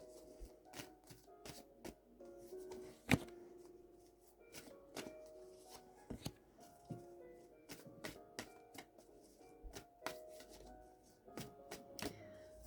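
Tarot cards being shuffled and handled at close range, a quiet run of soft riffling, flicks and taps with a few sharper snaps, no voices.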